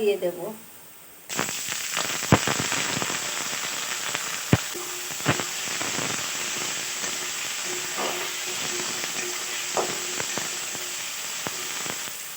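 Onion and potato fry in a pan with a constant close sizzle and hiss, marked by sharp clicks and pops from stirring; a brief low murmur comes just before the sizzle starts.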